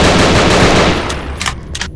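Rapid automatic gunfire in the video game Nightmare House 2 rattles in a sustained burst, then breaks into a few shorter volleys.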